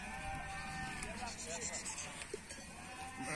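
Sheep bleat from a flock at village milking time, several wavering calls layered under faint voices and general farmyard noise.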